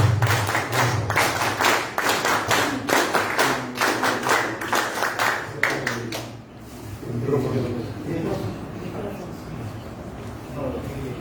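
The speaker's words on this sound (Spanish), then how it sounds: "Un gran aplauso para él" At a tribute ceremony for a 128th birth anniversary, an audience claps in sharp, distinct bursts for about six seconds, then the clapping fades as voices talk in the background.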